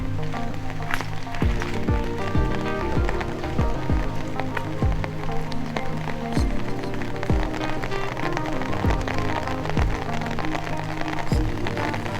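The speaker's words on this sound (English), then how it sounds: "that rain is really coming down" Heavy rain falling at Whites Bay in the Marlborough Sounds, a dense continuous patter with sharp drops striking close by, as if on an umbrella overhead, steady and fairly loud without speech.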